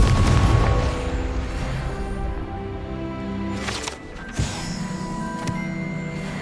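Confringo blasting spell in the Hogwarts Legacy video game: a loud booming burst at the start that rolls into a sustained rumble and ringing tones, with a second sharp hit midway through layered game sound.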